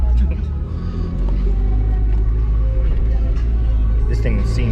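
A BMW driven at a burnout zone at night gives a loud, steady low engine rumble that holds constant throughout, with faint background sounds above it.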